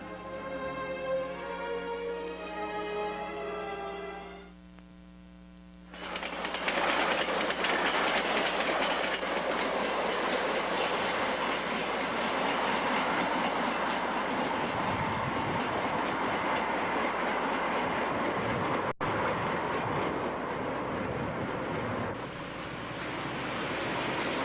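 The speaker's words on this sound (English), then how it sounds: "the Orland Park commuter trains still rumble through here" Orland Park commuter train rumbling past on the tracks, a deep, steady roar of rolling wheels and railcars close by that builds suddenly after a humming horn-like tone and continues for about twenty seconds, with occasional clicks from the rails.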